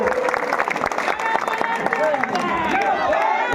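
Applause and cheering from a crowd at a political rally for a politician, with dense continuous clapping close and loud, voices and shouts mixed in throughout.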